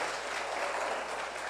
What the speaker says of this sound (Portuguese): Você pode dar uma linda salva de palmas a Jesus